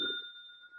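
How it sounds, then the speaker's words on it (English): A single bell is struck once in a formal meeting hall and its bright, clear tone rings on and fades slowly, close and alone. "It's time to ring the bell."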